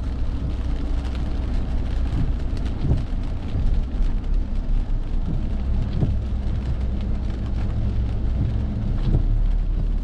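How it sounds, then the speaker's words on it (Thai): Rain falls steadily on a Bangkok street in the Lan Luang area, a dense close hiss with low rumbles and occasional deeper thuds like distant thunder or passing traffic, and no talking. "ฝนตกถนนลื่นนะครับ"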